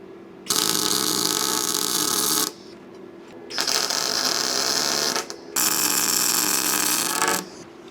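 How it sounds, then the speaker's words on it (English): Steel pieces for overland camper rock sliders being welded: three long, steady bursts of harsh, crackling buzz, each lasting one to two seconds, separated by brief quiet pauses over a faint background hum. "we'll just fill it in with this piece and weld the rest together"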